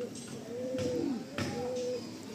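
A Giribaj pigeon, a female flying breed, coos in soft low warbling phrases, two rolling calls close by with faint background rustle.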